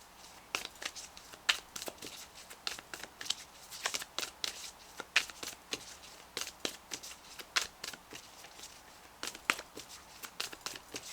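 Oracle guidance cards being shuffled by hand, a close, crisp rhythm of repeated riffling bursts and soft card slaps that continue steadily throughout with no talking.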